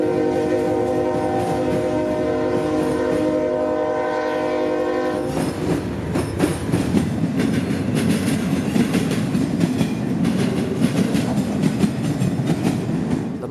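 Freight train M602 from New Orleans, led by West Coast locomotives, sounds a sustained horn blast, then its wagons roar past up close with a dense clatter of wheels that continues steadily.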